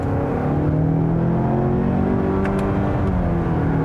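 A 2020 Mazda6 Signature with its turbocharged engine revs loudly and steadily from inside the cabin, a sustained engine drone with its pitch slowly shifting, with no talking.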